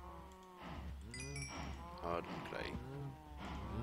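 Blocky cows in Minecraft moo repeatedly, several low drawn-out lowing calls overlapping at close range, with a brief spoken remark from a player mixed in.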